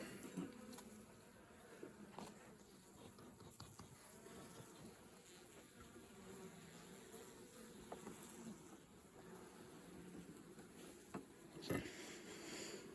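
Honey bees hum and buzz inside a winter beehive during an inspection, a steady close swarm drone with a few louder bumps and knocks near the end.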